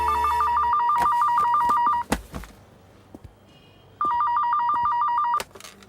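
A landline telephone rings loud and close in two long electronic trilling bursts separated by a few seconds of quiet broken by brief knocks, the second burst cut off abruptly.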